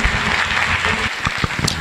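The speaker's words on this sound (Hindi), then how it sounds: "अभी आप लोग थोड़ा क्लैप करिए और प्रतिमा जी को यहां बुलाइए एक बढ़िया ताली से।" An audience claps to welcome Pratima onto the stage at a motivational business seminar. The applause is short, steady and fairly close, with no talk over it.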